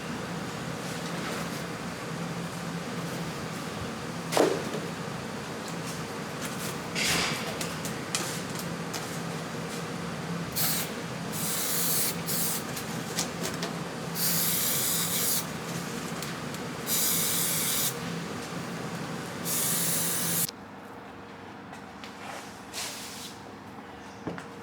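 Spray adhesive hisses in repeated bursts as glue goes on for fitting carpet in an MGB Roadster restoration. The sprays come close and fairly loud, with rustling and rubbing between them, then the noise drops to quiet handling near the end.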